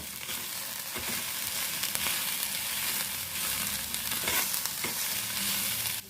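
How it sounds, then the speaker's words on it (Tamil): Shredded cabbage for a poriyal stir-fries on a slow flame, giving a soft, steady sizzle with faint scraping and stirring noises, fairly quiet and close, with no talking. "நம்ம ஸ்டவ்வை வந்து ஸ்லோ ஃப்ளேமில் வச்சுட்டு அப்பப்போ திறந்து முட்டைக்கோஸ் வந்து வேகிற வரைக்கும் மிக்ஸ் பண்ணி விட்டுட்டே இருக்கணும்"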